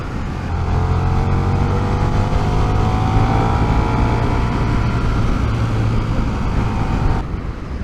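A 2024 KTM 1390 Super Duke R motorcycle engine pulling hard in fourth gear, a steady loud roar with rising pitch for about seven seconds, then easing off, heard from the rider's position with wind noise.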